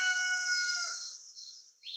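A rooster crows loudly and close by in a long, drawn-out call that trails off near the end.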